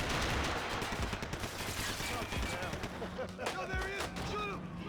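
Gunfire in the video game Max Payne 3: dense, continuous shooting and impacts through a chaotic firefight, with shouting voices over the combat.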